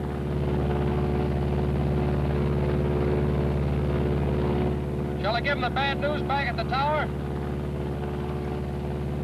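A Martin B-26 bomber flies on a single engine, its steady, droning, low-pitched roar running throughout while someone speaks over it partway through.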